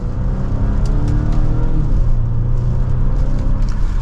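A 2025 Volvo V60 Cross Country hybrid accelerates in manual mode from second gear, a steady, close engine whir and rumble building with road noise, with no voices.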